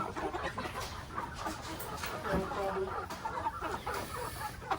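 A young rooster clucks close by in short repeated calls, mixed with other fowl sounds and light background noise, while people talk quietly nearby.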